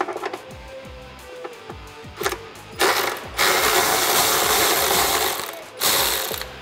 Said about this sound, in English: Grab your 13mm socket once again and remove your middle hanger as well.